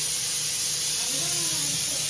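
Modaks steaming in an idli pot give off a steady, close broadband hiss of escaping steam, continuous and fairly loud throughout with no talk.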